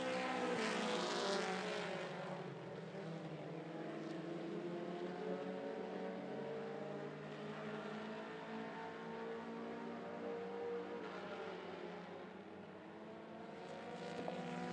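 Mini stock race cars roar around the 411 Speedway track, a steady, distant engine drone that swells and eases as the pack passes, with no voices.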